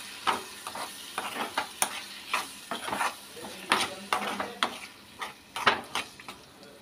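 Beaten eggs and onions fry in a pan while a spoon stirs them, giving repeated scraping strokes in an even rhythm over a soft steady sizzle, close and clear.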